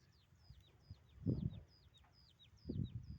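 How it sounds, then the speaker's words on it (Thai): A chicken in a rice field gives soft, low clucks in two brief bursts, close by, while birds chirp faintly in the background. "ไก่นมครับตัวนี้ รุ่นพี่ของเจ้าเหลืองเล็กครับ"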